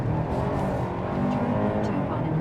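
A 2026 Kia Sportage SX-Prestige with a 2.5-liter four-cylinder accelerates hard on a test drive, a steady, loud engine drone filling the cabin while a voice talks over it.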